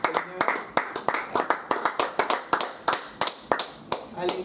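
A church congregation claps in quick, steady rhythm for the Lord, many hands striking together in repeated sharp beats, with voices faintly audible beneath.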